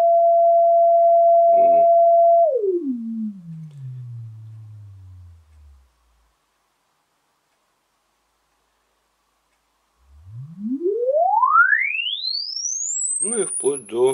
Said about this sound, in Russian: Можем попробовать генератор прогнать. Вот услышите тон.